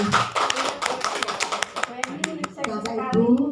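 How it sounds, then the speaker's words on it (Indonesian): Scattered applause from an audience at a dissemination session, rapid overlapping claps that thin out midway and pick up again, with voices murmuring faintly underneath. "Bapak Ibu, tepuk tangan untuk Bu Eni."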